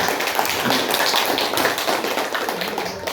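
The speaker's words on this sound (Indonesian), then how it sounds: "Ya, tepuk tangan." A classroom group claps for a student team after their presentation, dense steady clapping filling the room from start to finish with no clear talk over it.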